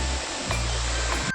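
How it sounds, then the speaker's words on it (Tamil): Law's Falls, a waterfall about 30 metres high on the Coonoor river in the Nilgiris, roars as a steady, loud broadband rush of falling water, continuous and close with no voices. "இந்த லாஸ் ஃபால்ஸ் பார்த்திங்கன்னா குன்னூர் ஆற்றுல தான் உருவாகுதுங்க. அங்கேருந்து 30 மீட்டர் உயரத்துலேருந்து கீழே விழுகுது."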